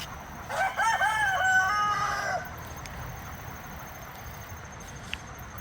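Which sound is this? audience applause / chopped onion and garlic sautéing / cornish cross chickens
cornish cross chickens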